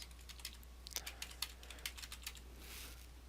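Rapid, irregular keystrokes on a computer keyboard, a quick run of light clicks heard faintly and close against a low steady hum, with no voices.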